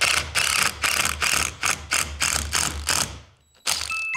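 Wood screws, full-thread and half-thread types, driven into lumber by a power driver: a loud run of about eight short ratcheting bursts with brief gaps, then a pause and another burst, with no talking.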